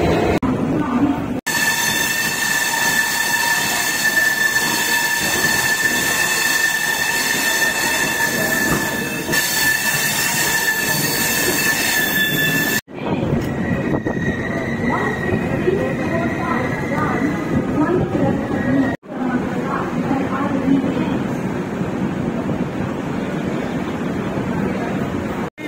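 A diesel-hauled express train rumbles steadily along the rails with a loud, continuous roar and high metallic squealing from the wheels, interrupted by brief dips.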